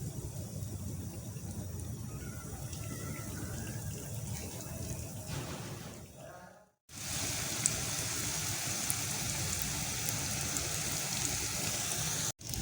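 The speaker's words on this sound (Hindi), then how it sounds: "और अब हम करें इसको शैलो फ्राई।" Potato katori cups shallow frying in hot ghee give a steady, dense sizzle and crackle, close and moderately loud, briefly cut off and then returning stronger.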